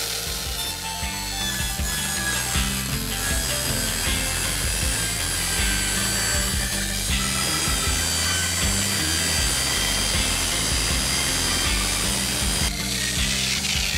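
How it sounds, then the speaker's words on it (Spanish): A circular saw rips through a cellular polycarbonate roofing sheet along a guide, a loud, sustained whining buzz with rattling vibration from start to finish and no talking. "presentamos la herramienta y sobre la guía y siguiendo la línea hacemos el corte"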